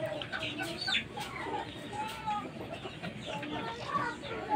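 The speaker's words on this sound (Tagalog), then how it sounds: "Tilaok." Fighting rooster on a farm, heard amid a busy chorus of clucking and calls from other chickens, with steady background noise and no clear single crow standing out.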